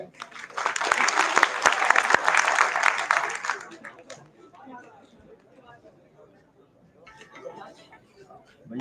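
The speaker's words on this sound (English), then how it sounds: "Please welcome them with applause." Audience applause at a stage performance event, loud and sustained for about four seconds before fading into scattered claps and quiet murmuring.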